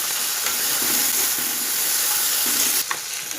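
Onion and chopped tomato fry in a pan for a chickpea ghugni, a loud continuous sizzle with faint stirring scrapes and a sharp clink near the end, no one speaking.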